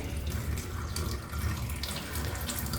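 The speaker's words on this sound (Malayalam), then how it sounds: "ചൂടായിട്ടുള്ള വെള്ളമാണ് അപ്പോൾ നമുക്കിത് ഇതേ നേരെ കിച്ചൺ സിങ്കിലേക്ക് ഇതങ്ങ് ഒഴിച്ചു കൊടുക്കാം" Hot water poured into a kitchen sink drain, a steady close rush and splash of running water with no talking.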